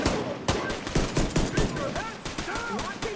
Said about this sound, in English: I never got used to the new hip fire for this game.